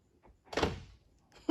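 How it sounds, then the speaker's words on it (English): A 1978 Mercedes 450 SEL car door is opened with a short latch clunk and brief rattle, followed by a sharp metallic click at the end, close and isolated. "doors to come open. It's ridiculous."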